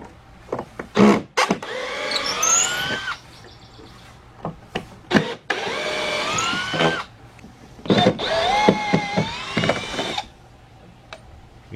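A Milwaukee M12 drill driver whirs through several loud bursts, its motor pitch rising and falling as it drives into wood on a patio. Short clicks and pauses separate the runs.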